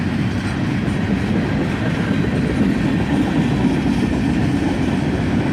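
A CSX freight train of gondola cars rolls past on a siding, a steady, close, continuous rumble of wheels and cars with no break and no voices.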